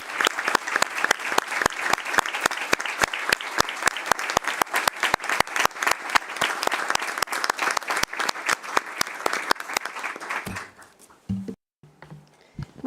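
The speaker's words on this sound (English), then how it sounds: "let's give a big round of applause for our" Delegates at an Executive Committee session give a farewell round of applause for Lucy Barillas, a loud, rhythmic clapping that holds for about ten seconds before fading, followed by a brief voice.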